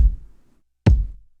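Two dry, unprocessed kick drum hits for a beat, short booming thumps with no reverb, spaced under a second apart in otherwise silent surroundings.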